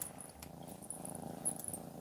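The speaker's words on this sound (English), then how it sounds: "You can hear her purring?" A cat purring steadily and softly, a continuous low rumble heard from some distance, with a few faint rustles and no talking.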